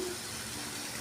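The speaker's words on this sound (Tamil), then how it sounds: "புளி தண்ணி சேர்த்துக்கிறேன்" Tamarind water pours steadily into a pot of fish curry, a soft continuous splashing gush close by that lasts about a second.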